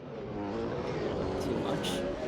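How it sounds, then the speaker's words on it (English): Audi race car engines in a racing video game roar loudly and continuously, a buzzing, harmonic drone with slight pitch changes under someone talking. "Yes, these engines are very loud."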